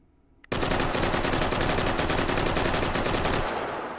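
An L85A2 rifle in the VR game H3VR empties a 30-round magazine of 5.56x45 NATO, starting abruptly after a quiet moment into a loud, fast, continuous stream of evenly spaced shots that tails off near the end.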